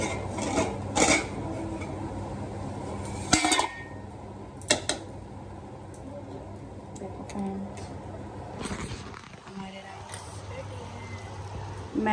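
Pot and metal utensils clatter in a home kitchen as cooked rice in a pot is stirred and checked, with a few sharp clanks over steady background hum and someone talking.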